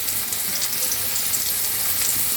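Potato pieces fry in hot oil for a spiced mutton curry, giving a steady, close, dense sizzle and crackle that holds an even level throughout with no voices.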